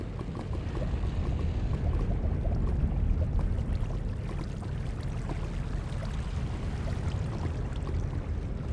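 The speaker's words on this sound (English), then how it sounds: "Can you hear that rather nasty low rumble, I say? Ah, yes, it's an eerie sort of rumble." A dense, low, continuous rumble fills the space near the Nether in Minecraft, loud and unbroken throughout with no voices over it.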